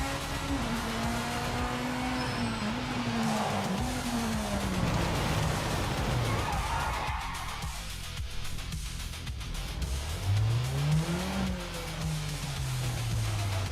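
Simulated LMDH race car engine in a racing simulator, revving up and down through gear changes with rising and falling pitch sweeps, steady and close throughout.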